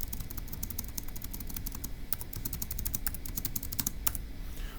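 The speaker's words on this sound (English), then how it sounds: "So let's go ahead and type that up." Keys clatter on a computer keyboard in quick, uneven bursts of close, light clicks, steady for several seconds in a quiet room.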